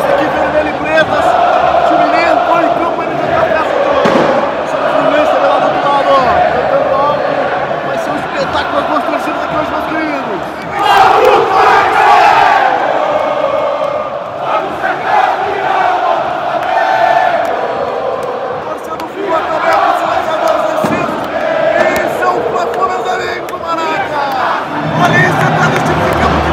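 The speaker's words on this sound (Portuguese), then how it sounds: "Aqui é a festa da torcida do Messi, todas as faixas aqui, vermelho e pretas." Flamengo supporters chanting and singing in unison at the Maracanã stadium during a Fla-Flu derby, a loud, sustained crowd roar filling the whole stretch with swelling rhythmic surges.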